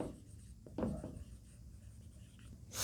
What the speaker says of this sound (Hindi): मैं इसको लिखता हूं।